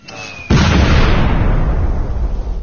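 A bomb explosion sound effect erupts after a brief quiet lead-in, a loud booming blast with a rumbling tail that fades gradually over about two seconds.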